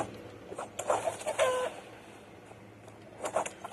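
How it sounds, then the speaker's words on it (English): A rocket rooster in the video game My Time at Sandrock gives a few short, bright clucking calls in quick bursts, followed by a quieter pause and another brief squawk near the end. "Yes, that rocket rooster did shoot a rocket bottle."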